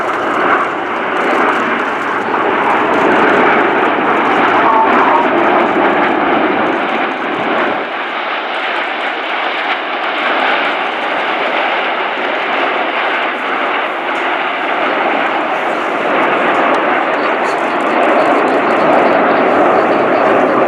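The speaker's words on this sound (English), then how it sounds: "Come in from your left-hand side now, with their canopies towards us, the Red Arrows and the leaders of the other jet formation teams." Red Arrows and other European jet formation display teams roar past in a flypast at RIAT 2014, a loud, sustained broadband jet rumble that swells and holds steady throughout.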